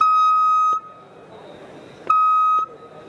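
An MSA WinGrip vacuum lifting unit sounds its low air supply alarm, a loud steady electronic beep heard in two long bursts with a short gap between them, close and clear.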